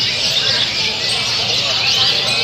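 Dense high-pitched canary trilling at a bird song competition, a continuous bright warbling chorus sustained throughout amid crowd noise.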